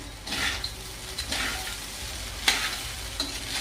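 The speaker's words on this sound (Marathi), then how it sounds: "आता याला असं मस्त खालवर करून घ्यायची" Sabudana khichdi with ghee being stirred in a pan, a soft continuous sizzle broken by repeated scraping sweeps of the spoon and a few sharp clinks against the metal, close up with no talking.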